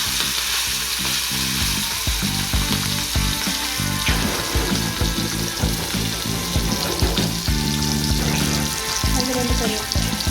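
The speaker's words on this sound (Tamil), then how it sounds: "அடுத்தது ப்ரான் ஃப்ரை." Prawns frying in a pan give a steady, loud sizzle with occasional stirring scrapes throughout, kept up without a break and with no talking.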